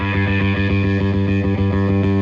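Bright, heavily distorted bass tone from an EBS Billy Sheehan Ultimate Signature Drive pedal with the tone control turned all the way up, played as a steady, repeating pulsing riff, loud and continuous with no talking.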